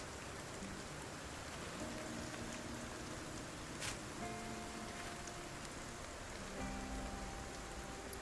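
Constant rainfall hisses in the video game Project Zomboid, an unbroken wash of drops with a brief sharper splash midway and soft tonal game noises beneath.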